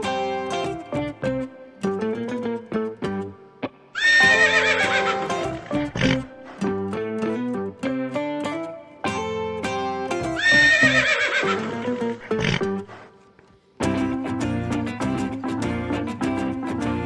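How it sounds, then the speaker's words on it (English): A horse neighs twice in long, wavering whinnies that rise and fall, set over a bouncy, plucky children's music track that runs throughout. "Horse."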